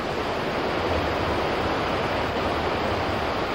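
Horseshoe Falls roars with water crashing down in a steady, dense, unbroken rush, loud and close, with no voices over it.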